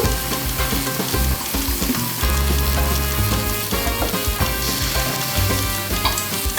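Drained udon noodles landing in a hot pan for a peanut satay noodle bowl, a loud, dense, crackling sizzle that runs without a break, with no talking.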